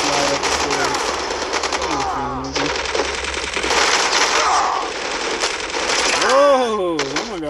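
Rapid AK-47 automatic fire from Call of Duty Mobile rattles in fast, loud bursts close up, with metallic clatter and a couple of brief whooshing effects near the end, and a voice speaking underneath.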